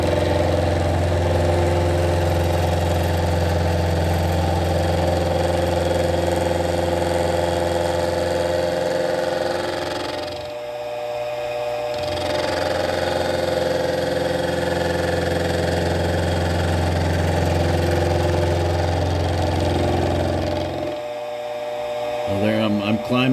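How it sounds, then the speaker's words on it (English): A small Unimat lathe set up for milling grinds steadily through a bronze workpiece with a 1/2 inch end mill, a continuous motor drone with two brief pauses where the cut stops and restarts. "there I'm climb milling and then conventional milling"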